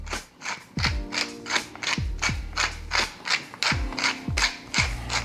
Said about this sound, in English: And now we'll grind a little pepper.